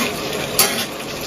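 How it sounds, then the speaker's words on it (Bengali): Chicken pieces sizzle loudly in spiced oil in a pan, with a brief scrape of stirring midway through the short, close burst of frying. "মাংসটাকে খুব ভালো করে কষাতে হবে যতক্ষণ না এর উপরে পুরো"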